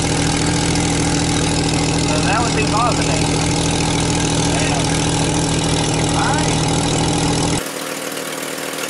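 A Jeep Wrangler TJ engine idles steadily with a rough, puttering rumble from a cracked exhaust manifold leak, and someone speaks briefly over it before it cuts off.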